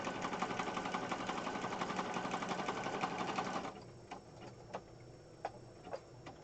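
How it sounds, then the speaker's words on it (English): A sewing machine stitches paper scraps at a fast, steady clatter for several seconds, then stops, leaving scattered light clicks and taps. "I go relatively fast with my sewing machine"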